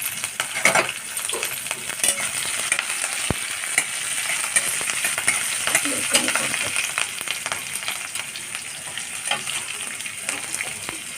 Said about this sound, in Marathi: लसूण आणि मिरची टाकते, जरा परतून घेते आणि कांदा टाकते